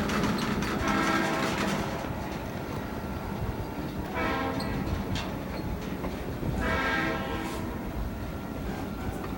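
An HO-scale model train rumbles steadily along a layout track with a continuous clattering hum, swelling and fading as it passes close by several times.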